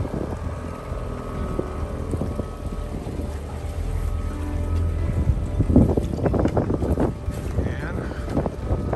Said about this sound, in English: Pulling away from the dock.